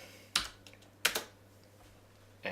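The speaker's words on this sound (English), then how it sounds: "Copy, paste, and then type in" A few quick keystrokes on a computer keyboard, sparse taps close by in a quiet room with a faint background hum.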